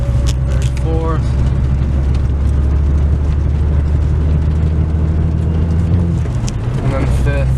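A diesel car on summer tires accelerates through fourth gear on a snowy road, its engine drone steady and loud from inside the cabin, with brief gear-shift squeaks near the start and end.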